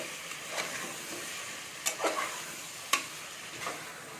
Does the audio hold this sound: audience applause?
no